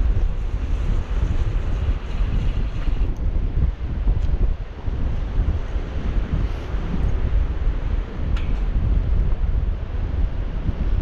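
Steady, heavy coastal wind roars across the microphone, a continuous low rumble that never lets up, with no voices.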